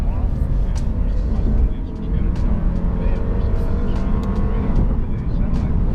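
A car engine, a Lexus IS200t or Infiniti Q50 2.0t, drones steadily at full throttle under continuous road and wind noise, its pitch creeping upward as it pulls, with voices talking over it.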